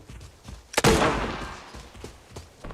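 A single grenade explodes in the shooter game Arena Breakout: one loud, close blast with a sharp onset and a rumbling tail that fades over about a second, between fainter thuds.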